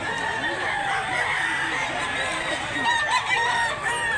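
Several fighting roosters crow over a dense, noisy farmyard background, with overlapping calls blending into a continuous din.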